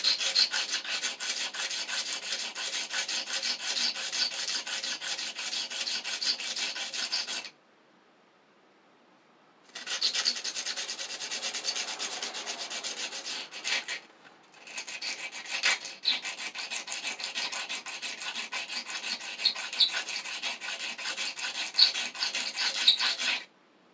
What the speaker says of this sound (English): I got a good sanding on that side, and we'll sand this side this year.